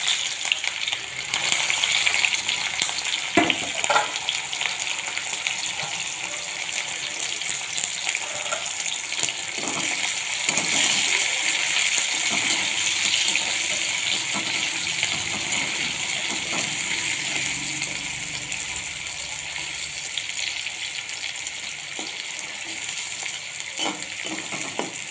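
Onions fry in hot oil in a steady, crackling sizzle that goes on throughout, broken by occasional clinks and scrapes of stirring.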